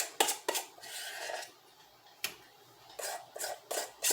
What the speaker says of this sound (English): Take it off the spoon and then spread it out.